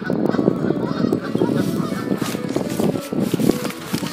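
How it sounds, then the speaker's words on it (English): Canada geese and greylag geese honk nonstop at close range, a loud overlapping chorus of harsh calls lasting about four seconds. "So that's a grey lag goose, then ones. The other one I'm not sure about. We have the Canadian goose."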